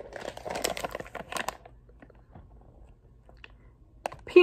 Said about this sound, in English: let me show y'all what I'm chewing on